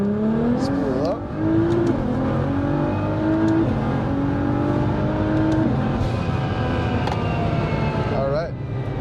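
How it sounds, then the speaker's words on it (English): A 1400-horsepower Nissan GT-R pulls hard in second gear, its engine note climbing steadily with turbo whine rising over it. A brief dip marks a shift before the revs surge again, loud and close from inside the cabin. "we're gonna go ahead and do a little second gear pull right here"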